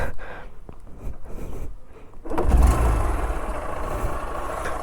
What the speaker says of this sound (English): let's go in the primitive way and do the kicker start